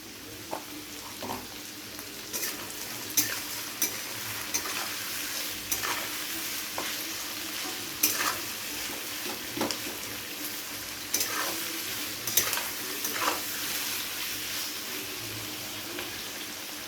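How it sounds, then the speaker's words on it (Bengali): Onions salted and frying in oil in a pan for mutton bhuna, a steady close sizzle with periodic scraping stirs and soft clinks. "পেঁয়াজটা কিন্তু একটু সময় নিয়ে আপনাদের ভেজে নিতে হবে এইভাবে"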